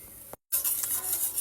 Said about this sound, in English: mix your Stay Soft in nicely